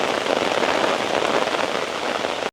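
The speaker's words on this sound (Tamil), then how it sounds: "மழை எப்படி பொழியுது பாருங்க" Heavy rain pouring down during a storm, a dense, steady hiss of drops hitting surfaces, loud and close, cutting off abruptly at the end.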